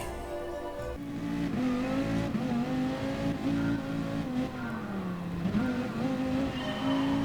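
Viper SRT GT3 race car lapping Laguna Seca in Gran Turismo Sport, its engine note loud and steady with rising and falling revs through gear shifts and a faint tire squeal.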